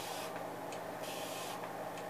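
A spray bottle gives several quick, soft spritzes onto curly hair ends, close by, with faint hiss between them and no talking.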